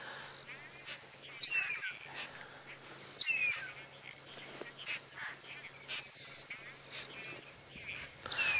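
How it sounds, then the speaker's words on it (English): A lilac-breasted roller circling at sunset on safari gives harsh, repeated calls at intervals, fairly faint and distant over quiet outdoor background, with a few other bird sounds. "This lilac-breasted roller is circling and circling and calling and calling."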